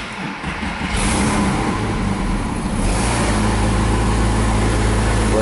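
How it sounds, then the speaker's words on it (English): Porsche 911 Carrera engine starting up, settling into a steady close idle with a continuous low rumble that fills the clip. "So if I start the car up"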